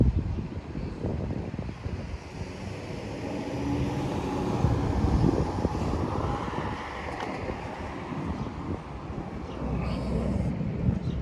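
A plane flies over Howard Beach, Queens, as a low, steady broadband roar with gusts of wind noise on the mic, holding fairly even for the full stretch.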